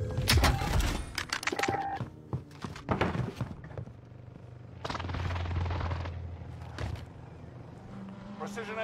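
A precision airstrike in a video game lands as a run of heavy booming impacts. The strongest burst comes near the start and further thumps follow around three, five and seven seconds, each trailing off into a low rumble.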